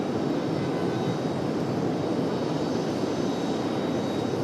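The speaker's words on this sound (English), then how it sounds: "Delta 1075 was off to Boston, that A319, that last departure." A Delta Airbus A319 jet departing roars with a continuous, broadband engine rush that holds steady and loud at a distance.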